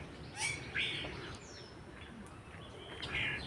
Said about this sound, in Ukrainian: і слухати пташок, спів пташок